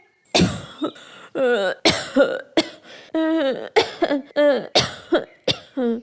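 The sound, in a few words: cartoon character coughing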